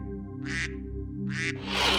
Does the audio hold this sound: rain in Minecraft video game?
no